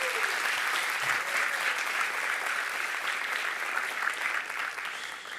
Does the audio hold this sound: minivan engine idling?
no